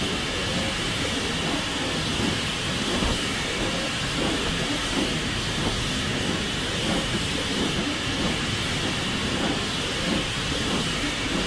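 A Peppercorn K1 steam locomotive in Train Simulator 2016 on the West Highland Line Extension gives a continuous rumble with steady hiss and faint rhythmic clatter, with no talk.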